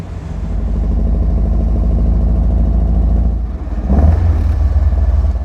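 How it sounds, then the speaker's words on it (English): A car engine runs steadily, then is revved briefly with a sharp throttle blip near the end, the revs rising and settling back into a loud, close, continuous drone. "you need to blip the throttle to raise the engine RPM"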